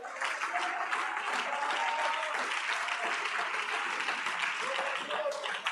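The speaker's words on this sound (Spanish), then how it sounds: "Dale un aplauso." Church congregation applauding during a sermon, a continuous dense wash of clapping with some voices and tonal sounds mixed in.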